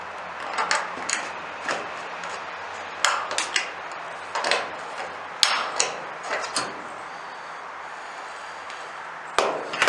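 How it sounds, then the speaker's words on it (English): Tin snips cutting metal roofing, a series of sharp, irregular metallic snips and clacks with short pauses between them, close and moderately loud. "I'll cut it with snips if I can get to it."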